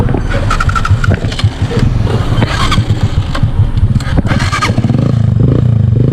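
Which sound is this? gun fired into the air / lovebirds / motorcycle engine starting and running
motorcycle engine starting and running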